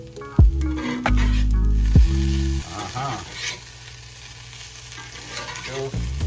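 Crackling sizzle from vegetables frying in a cast iron skillet, with scattered pops, and a few loud low hums and thumps early on.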